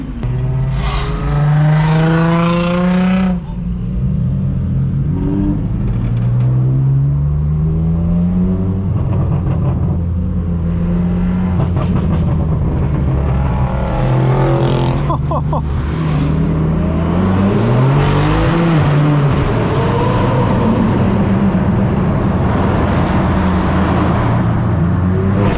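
A straight-piped BMW M4 F82 revs and accelerates hard at an illegal supercar meet, a continuous loud, raspy exhaust roar rising and falling with other passing cars and crowd noise.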